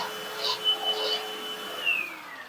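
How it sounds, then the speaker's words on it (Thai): A vacuum cleaner with a 5-metre cord cleaning a mattress where a dog sleeps, a faint steady motor whine with a high tone that bends downward near the end, heard alone. "จบลงแล้วนะคะ กับการใช้เครื่องดูดฝุ่น"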